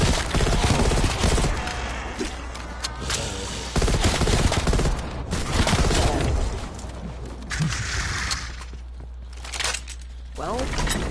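Uzi submachine gun firing in a video game, repeated bursts of rapid gunfire with short pauses between them, loud and close.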